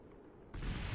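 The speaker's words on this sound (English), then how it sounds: "The fairing exploded, everybody." A rocket fairing in Kerbal Space Program bursts apart with a sudden loud explosion midway through, following a low rumbling engine drone, and it then roars on without any talk.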